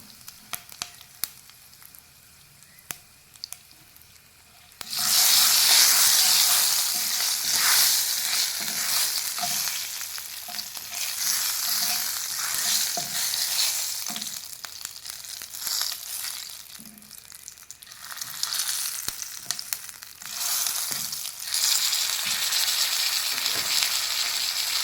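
Mustard seeds, fenugreek powder and curry leaves hit hot oil, bursting into a loud, bright sizzle after a few seconds of quiet clinks, then crackling and spitting steadily with occasional stirring.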